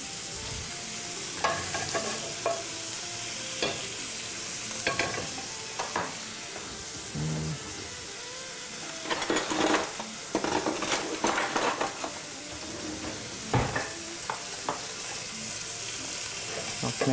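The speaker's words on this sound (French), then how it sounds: "on le laisse bien à plat pour qu'il vienne colorer la viande" Meat searing in a very hot frying pan, a steady loud sizzle with crackling spatters and occasional clinks of pan and utensil, no voices.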